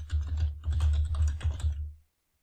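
A username being typed on a computer keyboard comes through as a quick, close run of crisp keystrokes lasting about two seconds, then silence.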